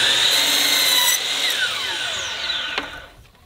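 Miter saw with a 12-inch Diablo 44-tooth blade slicing through rough sawn cedar 1x4, a loud close whining cut that drops in pitch and fades as the blade spins down, with no talk.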